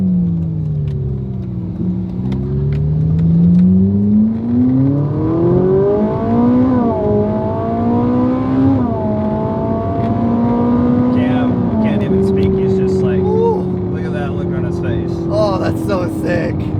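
A Ferrari 458 engine revs up and down through a series of downshifts, loud rising and falling tones with crisp blips, heard from inside the car while people talk over it.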